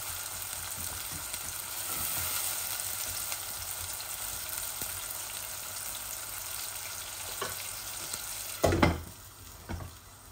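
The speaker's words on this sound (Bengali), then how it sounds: "একটু ভাজা ভাজা হয়ে যাক, তারপর আমি চিকেনটা ঢেলে দিব।" Onion, ginger and garlic frying in a pan, a steady low sizzle with occasional stirring scrapes and a louder clatter of the spoon near the end.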